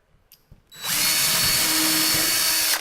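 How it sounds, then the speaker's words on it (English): A power drill whirs up and runs steadily for about two seconds, loud and close, boring a pilot hole before stopping abruptly. "drill myself a nice pre-drill hole"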